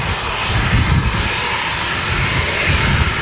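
A Jet2 Boeing 757 lands from Palma de Mallorca in a crosswind, its engines giving a loud, steady roar up close for a few seconds with no voices.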